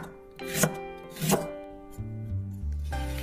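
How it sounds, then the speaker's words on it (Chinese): Ginger being sliced with a knife on a chopping board: a few distinct, well-spaced cuts ring out sharply against a quiet background, followed by a low tonal hum. "再准备1小块生姜，切成姜片"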